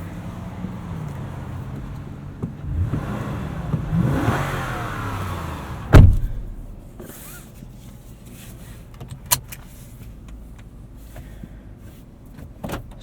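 A 2018 Lexus GX 460 SUV pulls away, its engine revving up steadily for a few seconds, then a sharp thump and a quieter cabin hum with faint clicks as it keeps moving.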